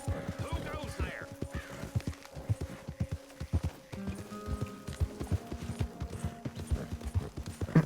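Horse hooves clop in a steady walking rhythm in Red Dead Redemption 2, close and distinct, with a brief voice and a faint whinny-like tone partway through.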